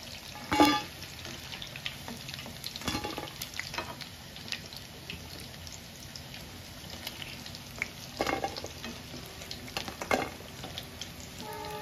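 Chicken pakoras fry in oil under a soft, steady bubbling sizzle, broken by several louder scrapes and clatters as pieces are moved and lifted out, with no speech.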